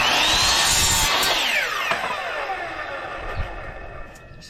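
A power drill drives screws into wooden frame boards for a wall in a box truck camper conversion, whining in a close, loud burst that tapers off with some handling knocks.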